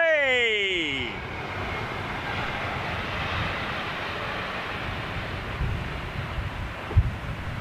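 A jet aircraft roars far down the runway, its engine whine sweeping downward at first, then settling into a broad, steady rumble with wind buffeting.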